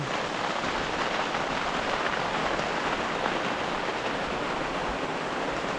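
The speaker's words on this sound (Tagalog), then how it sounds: "biglang ulan po oh" Steady, dense sudden rain hisses continuously on garden plants nearby, loud and unbroken with no voices.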